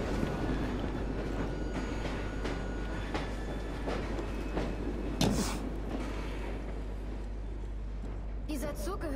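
A steam-era train in Assassin's Creed Syndicate rolls along with a steady low rumble and rhythmic clatter of wheels on track, a sharp hiss near the end, while people talk over it.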